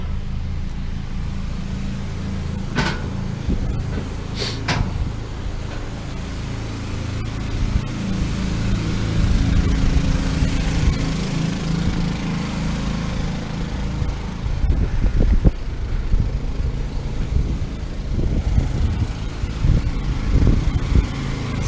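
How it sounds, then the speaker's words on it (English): Generators on an RV start up and ramp up into a steady, loud engine drone that thickens and grows busier partway through, close by and running continuously with no talk. "You can hear the generators ramp up."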